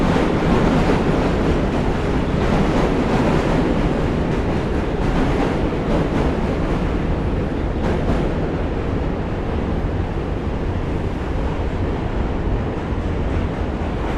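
Subway trains rumble steadily across the Manhattan Bridge in Brooklyn, a loud, continuous rolling roar with wind buffeting the microphone and no pause throughout.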